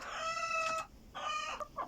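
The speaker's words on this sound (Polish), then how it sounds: "dlaczego ta kura tutaj znosi jajko" A hen clucks while laying eggs in an unusual spot rather than a coop nest, giving two drawn-out, nasal calls separated by a short pause, close and fairly quiet, with no voices.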